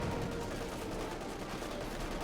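Video game battle gunfire as conscripts and other infantry open fire on Sturm troops: a dense, continuous crackle of rifle and machine-gun shots at steady loudness for the whole stretch, with no clear speech.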